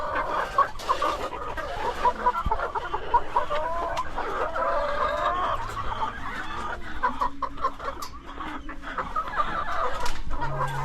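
Laying hens, some of them sick, cluck steadily and close by in a farm coop, a continuous layered chorus of clucks and low calls lasting the whole stretch.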